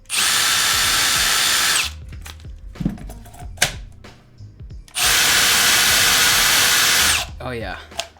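A Milwaukee 12V cordless power tool, running on a rebuilt battery, whirs loudly in two sustained bursts of about two seconds each, with brief clatter and handling noise between them.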